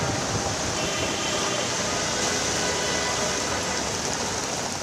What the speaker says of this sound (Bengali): কখনো থেমে থেমে, আবার কখনো মুষলধারে বৃষ্টি।